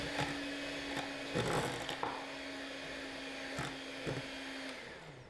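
An electric mixer whizzes cake batter with a third of the flour just added, a steady close-up motor whir with faint clatter from the bowl, running continuously without talk.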